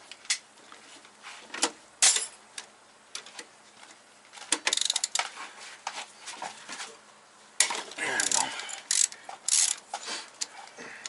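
A ratchet wrench clicks in irregular bursts as an MK2 GTI engine is being removed, with sharp metallic ticks and short rattling runs at a moderate distance and no talking.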